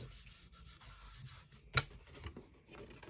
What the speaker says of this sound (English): I am rubbing my 2 pages together so I get some good adhesion going